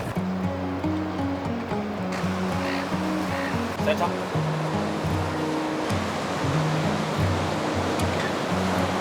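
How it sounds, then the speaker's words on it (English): Ocean surf rolls onto a beach in a continuous broad wash of noise, steady and fairly loud, with a low droning tone underneath and a person briefly speaking. "We're at the beach."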